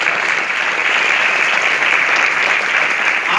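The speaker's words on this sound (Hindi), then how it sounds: "पहली बार स्वागत है इनका, जोरदार तालियों से।" A comedy show audience gives dense, loud, continuous applause that fills the room evenly for a few seconds.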